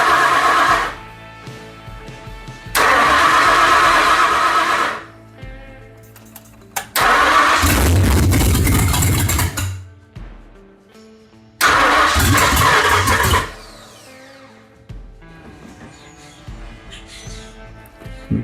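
A 1972 Mustang Mach 1 engine is cranked in several loud bursts, the starter grinding and the engine catching and revving roughly for a few seconds each time before dying back to quiet between attempts.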